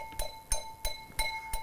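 Glass is tapped five times in a steady rhythm, each short bright clink leaving a faint ringing tone between strikes, quiet and close with no voices.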